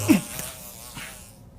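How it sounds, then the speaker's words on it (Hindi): A housefly buzzes close by in a brief, steady drone that fades toward the end, with no speech. "क्या वो एक मक्खी थी?"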